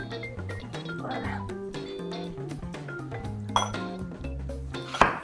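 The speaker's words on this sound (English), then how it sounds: "I'm roughly chopping the corianders." Coriander being roughly chopped on a board in a home kitchen, heard as a run of quick knife taps and clinks mixed with utensil and dish sounds, close and moderately quiet.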